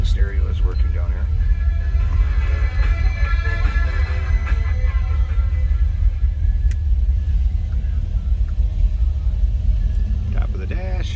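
A 1961 Chevrolet Bel Air hardtop's 283 V8 with Powerglide transmission idles with a steady, deep low rumble, close and continuous throughout, while someone talks over it.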